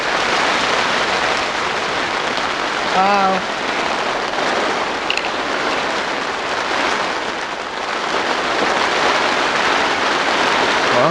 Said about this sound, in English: All you can hear is this. And it is hail. Really, really heavy hail.